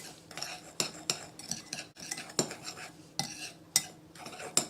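Dry flour tossed with sugar, salt, ground nutmeg, cinnamon and ginger in a bowl, heard as a steady series of close, sharp clinks and scrapes of a utensil against the dish, with no talking.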